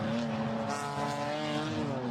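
A GT4 race car at Misano losing grip under power, its tail stepping out, with a loud, sustained engine roar and tire noise filling the whole short stretch, close and steady.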